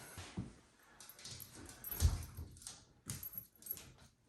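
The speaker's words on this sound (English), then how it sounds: "Who is that crazy dog?" A dog moves about indoors near a door, with soft scuffling, jingling tags and brief bumps and thuds at low volume, no talk heard.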